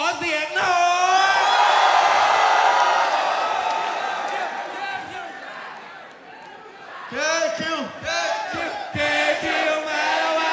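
A crowd at a rap battle event yells and whoops for a rapper, a loud sustained roar that swells, fades, then bursts into shorter shouted cheers.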